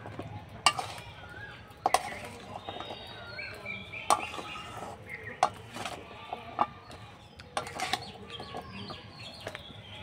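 A spatula scrapes and knocks against a pan while thick gaja dough made from flour is stirred, giving intermittent sharp clacks and dragging scrapes up close at an irregular rhythm.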